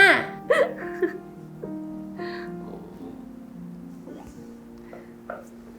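Hiccups from a person in a Thai drama scene: a few short, sharp bursts cluster near the start, then fade under quieter background sounds and faint tones.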